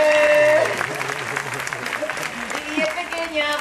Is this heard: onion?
no